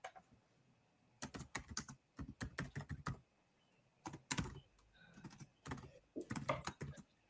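Close computer keyboard typing comes in quick bursts of crisp key clicks separated by short pauses, quiet and with no talk.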